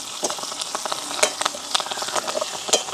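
Washed curry leaves hit hot oil in a village kitchen pan, giving a steady crackling sizzle with scattered sharp pops throughout, loud and close, no voices.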